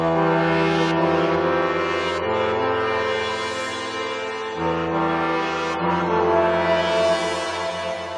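Korg Minilogue XD module synthesizer playing sustained chords, a rich droning buzzy tone with a few chord changes, loud and close with nothing else audible.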